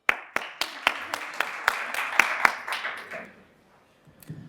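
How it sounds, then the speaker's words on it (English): A few evenly spaced hand claps from a morning symposium audience, about nine sharp strikes in a steady rhythm that thin out and stop, leaving quiet room noise. "give yourself a round of applause"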